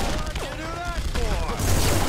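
Turret gunfire in The Punisher video game rattles in rapid bursts beneath a player's excited voice, with booming impacts that build louder toward the end.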